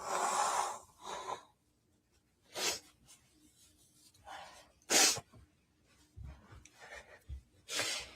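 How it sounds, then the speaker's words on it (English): Several short, breathy nasal blasts come in bursts with quiet gaps, like someone blowing their nose, close and fairly loud. "He's gonna blow his nose."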